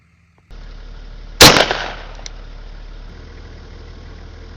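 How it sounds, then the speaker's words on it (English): A rifle fires one loud, sharp shot outdoors and its report echoes away. A steady engine-like hum runs underneath throughout. "you can see at least that rifle shooting"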